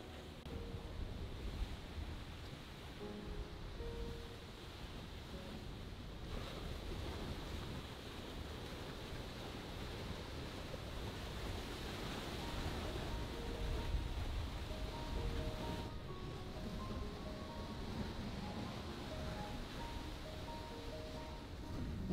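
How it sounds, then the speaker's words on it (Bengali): Sea surf along a shoreline in Sri Lanka beside a seaside railway line, a steady broadband wash of waves with wind buffeting the microphone, continuous and fairly close. "আর ওইটা হলো সমুদ্র।"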